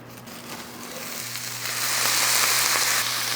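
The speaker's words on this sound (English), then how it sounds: "If you have frozen corn, just toast it on the skillet to get that bit of golden brown on it" Frozen corn kernels sizzle and crackle on a hot skillet, a steady frying hiss that grows louder partway through, close up and without talk.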